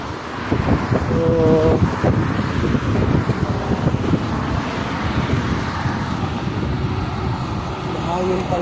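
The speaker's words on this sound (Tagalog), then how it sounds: "mahangin pa rin siya guys." Gusty wind buffets the microphone with a low rumble, while a person talks over it and traffic passes faintly.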